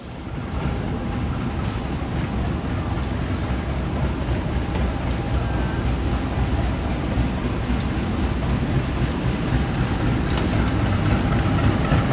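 A commuter train pulling into Bandung station at night, a steady loud rumble of wheels and engine holding constant, with faint higher squeals and clanks over the drone.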